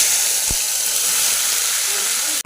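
Chopped taro stolons with onion, for a prawn dish, hiss and sizzle steadily in hot oil in a wok, a close, even, continuous fry for the whole stretch.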